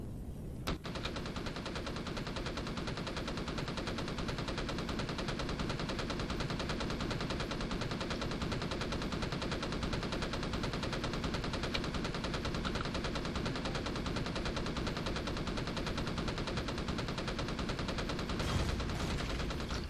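Rapid, sustained automatic gunfire in the space survival video game Empyrion Galactic Survival, a dense continuous stream of shots lasting the whole stretch at steady loudness, with no talking.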